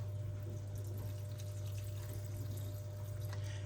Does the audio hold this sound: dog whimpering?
no